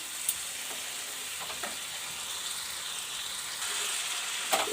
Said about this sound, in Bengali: আমি একটু কষিয়ে নিয়েছি।